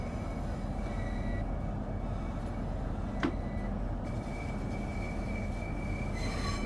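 Train coasting in Train Sim World 3, a steady low rumble of rolling wheels and cab hum with faint squealing tones and a single brief click midway, continuous and close.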